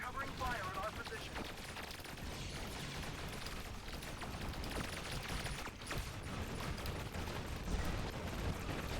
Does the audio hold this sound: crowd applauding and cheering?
no